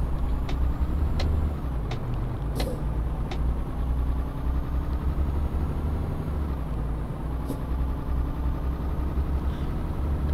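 Truck engine in Euro Truck Simulator accelerating: a steady low diesel drone with rising engine tones and a few faint clicks, continuous and fairly loud without speech.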